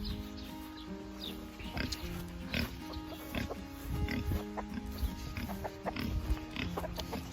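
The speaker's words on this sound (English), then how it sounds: "Naughty pigs, huh? Naughty pigs." Several pigs oink and snort at close range in an irregular, overlapping stream of grunts, with no talk over them.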